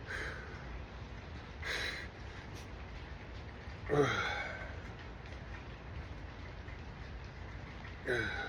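Steady rain falls outside an open garage door, a soft continuous hiss holding through the whole stretch, with a few brief breathy bursts rising above it now and then.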